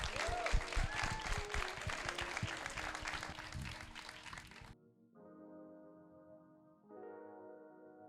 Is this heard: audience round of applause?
yes